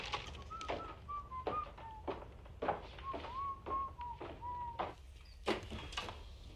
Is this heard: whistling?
yes